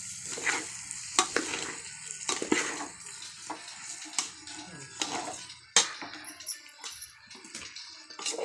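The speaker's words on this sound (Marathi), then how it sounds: "आता आपण परतून घेणार आहे।" Rice being sautéed in a pan gives close, repeated scraping and stirring strokes with a light sizzle and occasional sharp clinks of the spoon against the pan, coming in an uneven rhythm.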